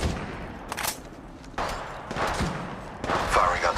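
Gunfire in the shooter game Apex Legends Mobile on the Kings Canyon map: several rapid bursts of shots come in quick succession over a few seconds, mid-distance and moderately loud, with game ambience between the volleys.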